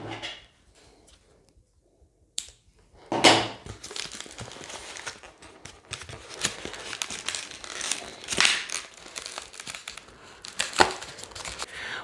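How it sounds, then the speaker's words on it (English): A modelling balloon twisted and knotted by hand, giving close, loud rubbery squeaks and crinkling rubs in bursts after a quiet start, with no talking. "then twist that all together. Okay, and then we can snip off the end and tie a knot"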